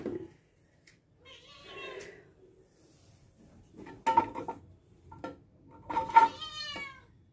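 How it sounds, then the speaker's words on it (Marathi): A house cat meows several times indoors, short close cries spread across a quiet room with light clatter and someone talking in between. "पहिले ना मला माझ्या मांजराला बाहेर सोडायला लागेल, कारण तो मला इथे काम करू देणार नाही."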